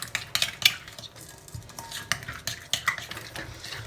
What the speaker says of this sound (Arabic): ونخلطوا لا ماريناد تاعنا كيما هاك.